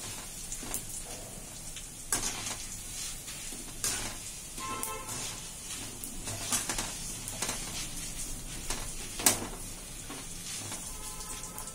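Ingredients for kara boondi sizzle quietly in hot oil in a pan, with a soft steady frying hiss broken by occasional scraping clicks of stirring.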